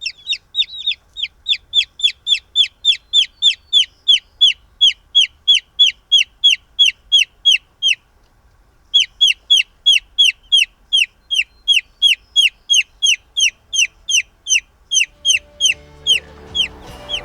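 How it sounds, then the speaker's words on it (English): Cornish Cross broiler chickens call in a steady, rapid series of high, evenly spaced peeps, close and loud, broken by one brief pause midway, with faint rustling at the end. "I'm going to introduce you to our 2 new Cornish Crosses, Pee-Pee and Dot."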